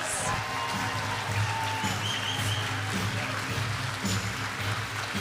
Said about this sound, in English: let's give them another really big round of applause